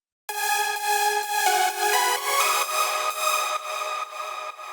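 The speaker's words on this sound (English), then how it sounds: "First, we have this very recognizable Nexus preset," A bright, buzzy Nexus synthesizer lead preset called Magnetron plays a short melodic phrase of sustained notes for progressive house, rich in harmonics, alone with no voices.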